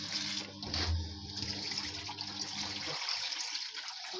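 Fava beans being washed under a running tap, with a steady close gush of water splashing in a sink that continues throughout.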